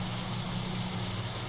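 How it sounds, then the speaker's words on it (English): Steady, loud video game rainfall hisses without a break, a dense wash of drops with a low rumble underneath. "God, that rain's loud."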